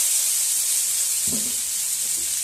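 Vegetables fry for a spinach curry, giving a steady broad sizzle throughout with a brief stirring scrape near the middle, close and moderately loud, with no talking.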